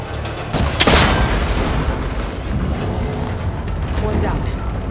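A cable connector is shot and explodes in the video game Horizon Forbidden West, producing a loud close blast followed by sustained rumbling and crackling debris.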